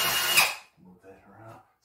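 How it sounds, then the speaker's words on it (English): A power drill briefly whines as it bores a hole in bathroom drywall, then cuts off, followed by faint speech. "So just going to drill the hole."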